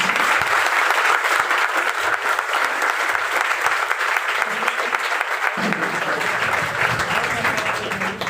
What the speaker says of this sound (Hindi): प्लीज ताली बजाएं आप लोग प्लीज